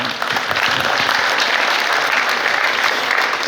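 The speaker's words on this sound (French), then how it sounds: "on peut l'applaudir" Dense, steady applause from an audience in a hall during a New Year's civic greetings ceremony, many hands clapping at once with no pauses.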